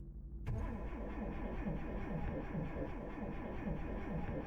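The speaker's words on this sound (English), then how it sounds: "I tried starting up my truck to get the hell out of there" A truck engine with a nearly drained battery cranks and turns over after a brief silence, a steady rhythmic churning that runs loud and close without catching.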